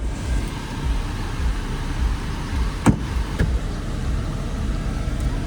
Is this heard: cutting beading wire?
no